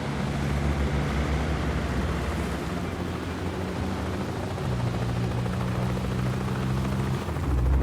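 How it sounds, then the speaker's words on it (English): Helicopter drawing closer in the video game 007 First Light, a steady loud rotor drone with low rumbling thump filling the whole stretch, growing slightly heavier toward the end. "Bavma's heli is inbound."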